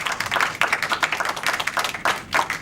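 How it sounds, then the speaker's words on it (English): Audience applause at a film festival Q&A screening: a dense, steady patter of many hands clapping throughout, with no one speaking over it. "round of applause, please."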